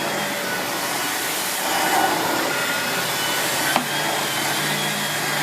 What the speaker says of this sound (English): The cat doesn't like the vacuum.